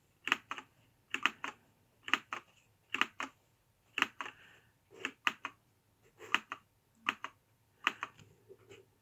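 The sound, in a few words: typing on the Freewrite distraction-free writing tool's clicking keys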